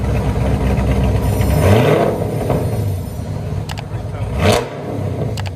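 A Chevy Camaro SS with a 6.2L V8 and a loud aftermarket exhaust revs up close, the engine roaring and climbing in pitch, dropping back, then blipping hard again.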